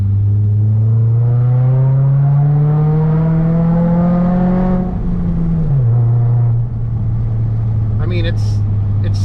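A Dodge Dart GT fitted with an MPX exhaust is driven at low speed. Its engine drones steadily and climbs in pitch, then drops sharply after a downshift and settles into a lower, throaty hum, heard from inside the car.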